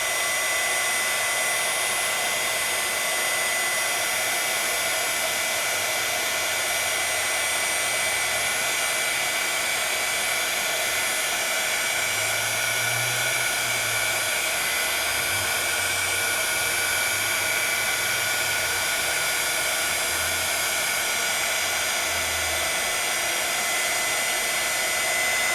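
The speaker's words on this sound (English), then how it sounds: "And heat. And now it's going to be even a heavier gloss," A heat embossing gun blows with a continuous, loud, even fan-and-heater whoosh as it melts embossing powder into a thick gloss, running unbroken at close range without talking.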